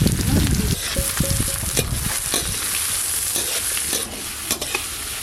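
Chopped onion sizzles and fries in hot mustard oil with whole garam masala, bay leaf and dried red chilli, loud and close, with steady crackling and repeated scraping stirs and no talk.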